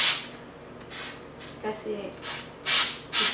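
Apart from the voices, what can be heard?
spray can spraying paint on a Christmas tree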